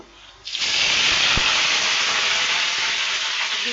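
Fish dropped into already-hot oil in a pan, bursting into a loud, steady frying hiss that starts abruptly about half a second in and continues without a break, close to the microphone.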